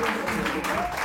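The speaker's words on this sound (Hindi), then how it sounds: "बहुत सारी तालियां इनके लिए।" Studio audience applause on a Samaa TV morning show, a brief, steady wash of clapping mixed with talk.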